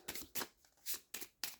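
A deck of proverb cards is shuffled in several quick, crisp bursts of riffling, fairly faint and close with short pauses between.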